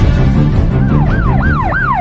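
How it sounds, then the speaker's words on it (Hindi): A police car siren wails nearby, a loud repeated rising-and-falling sweep over a low rumbling engine and traffic noise, with no voices. "ये तो पुलिस की गाड़ी की आवाज आ रही है।"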